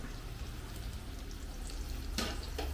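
Bilimbi and curry leaves sauté in oil over a medium flame for a pickle, a low, steady frying sizzle with a brief stirring rustle near the end, quiet and with no voices.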